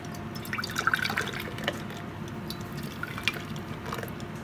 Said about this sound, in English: I'm just going to put some in the mason jars so we don't overfill it